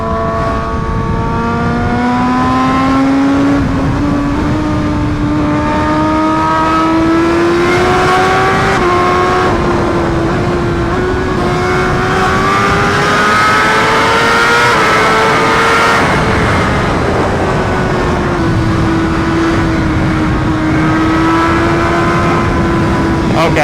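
A BMW HP4 motorcycle fitted with an SC Project exhaust roars loudly and continuously, its pitch rising and falling through repeated revs and gear changes as it rides along on concrete, with no talk.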